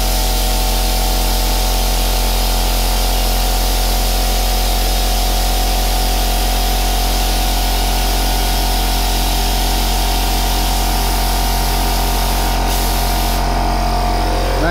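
A Handy S.A.M. 1200 motorcycle lift lowers a bike with a steady, loud hiss of air or hydraulic release running throughout, ending in a brief click and shift near the end.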